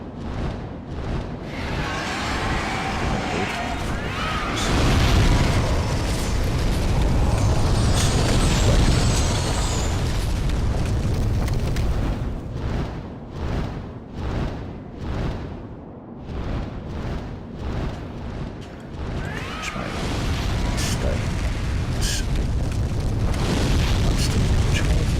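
A dragon breathes fire in a video game with long roaring, rumbling bursts of flame. The loud surges rise and fall over a continuous din.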